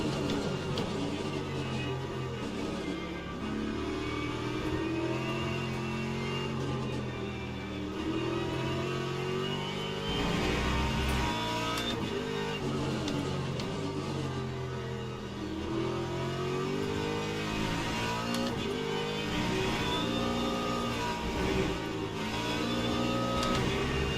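GT3 race car engines in the video game Le Mans Ultimate at Spa in wet weather, a steady revving drone rising and falling through gear changes, with other cars' engines close by, running continuously at moderate loudness.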